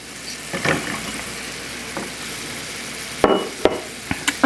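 Yam, onion and halved carrot cooking together in a pan for curry cabbage give off a low, steady sizzle, broken by a few sharp scraping knocks and clatters as the carrot goes in and gets stirred near the end.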